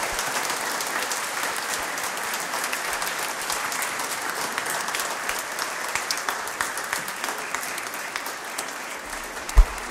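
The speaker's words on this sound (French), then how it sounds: "applaudissons le Seigneur" Sustained applause from a church congregation after a worship service, a dense steady wash of many hands clapping that continues for about ten seconds and ends with a sharp thump.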